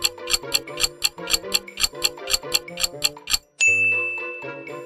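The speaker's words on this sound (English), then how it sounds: "That was the shooting sound effect from Contra" Retro Contra video game shooting effect: a rapid, steady burst of bright chiptune blasts repeating about three times a second, then a sustained ringing electronic tone, loud and alone with no voices.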